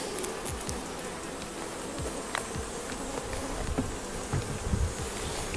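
Honey bees fill the air with a steady, dense buzz around an opened hive during inspection, with individual bees droning past close by over the constant hum.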